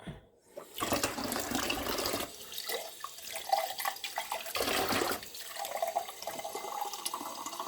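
Water is poured into a container holding a mutya, a charm stone, in two splashing bursts near the microphone with a brief pause between them and no talking.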